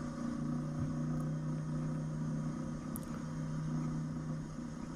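A 4.5-ton forklift creeps slowly across a rough field carrying a steel beam, with a steady mid-range engine drone, faint rattling and a few light clanks, heard at moderate distance with no talking.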